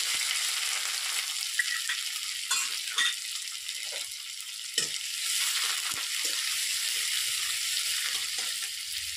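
Chopped carrot, ginger and a pinch of asafoetida fry in hot oil, making a close, constant sizzle broken by a few light stirring and utensil clicks, with no talking.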